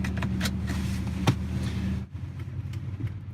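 A Chevrolet Tahoe pulls out of a parking lot, its steady engine and road rumble running close and continuous, with a brief thump midway and a quieter cabin stretch near the end.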